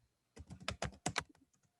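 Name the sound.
computer keyboard typing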